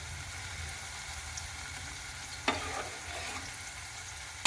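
Cooked toor dal is poured into sizzling masala for Gujarati dal dhokli, a steady frying hiss giving way to a sudden wet splash and bubbling as the lentils land in the hot pan.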